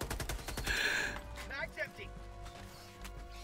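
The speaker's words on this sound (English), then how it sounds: "Are you shooting me?!" Rapid automatic gunfire in the co-op shooter Helldivers II, a dense burst of shots up front that thins into scattered impacts, heard alongside in-game effects and a voice.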